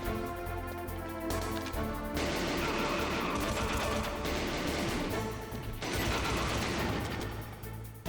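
Gunfire in the video game Metal Gear Solid, a dense, sustained burst of rapid shots with crashing impacts and a steady game soundtrack underneath, loud and continuous for several seconds.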